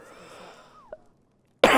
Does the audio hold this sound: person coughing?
yes